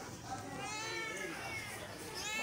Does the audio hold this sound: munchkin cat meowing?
yes